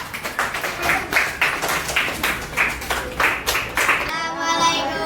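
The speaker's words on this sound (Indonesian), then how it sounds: "Boleh aplaus, tepuk tangan." Primary school pupils in a fifth-grade classroom clap their hands in a quick patterned rhythm, close and fairly loud, and the clapping stops just before a brief warbling tone at the end.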